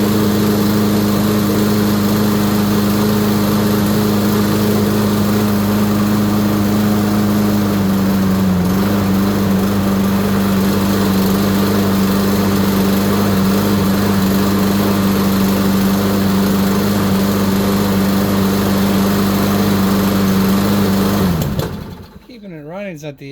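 A Kohler engine on a Husqvarna mower with carburetor trouble runs close and loud at a steady idle-like drone, pitch wavering slightly midway, then cuts off abruptly near the end, leaving quiet.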